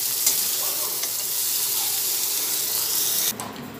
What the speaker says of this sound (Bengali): কুমড়োগুলো ভেজে নিয়ে এরপরে তেলটা ঝরিয়ে একটা পাত্রে তুলে ফেলছি।